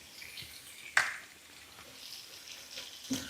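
Chili powder cooking in a pan for carne con chile colorado, giving a soft, faint sizzle with a sharp utensil clack near the start and another toward the end.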